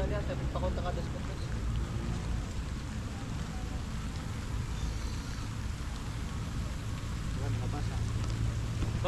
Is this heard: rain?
yes